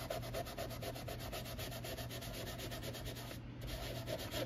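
Rubbing to clean an Apple IIgs keyboard produces rapid rhythmic scrubbing strokes, close and quiet, steady back-and-forth friction with a brief pause near the end.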